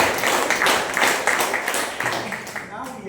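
An audience claps together in a steady wash of applause, fairly loud and close, with a voice speaking over it.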